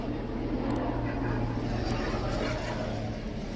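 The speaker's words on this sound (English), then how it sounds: "That was just the helicopter." A helicopter flies overhead, its engine and rotor making a loud continuous droning roar that fills the whole moment.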